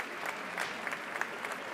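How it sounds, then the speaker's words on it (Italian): Audience applause at a festival in Matera for two mules, Slana and Catalana: a brief, steady wash of many hands clapping, fairly soft and even throughout. "Signori del pubblico, facciamo un applauso per la Slana e Catalana, due mule meravigliose"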